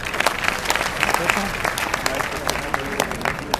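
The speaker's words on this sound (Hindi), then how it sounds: "देश के अमर शहीदों के सम्मान में आप लोग एक बार जोरदार तालियां बजा दीजिए" An assembled audience claps in honour of the nation's martyrs, a dense, continuous round of applause with crisp individual claps, fairly close and steady throughout.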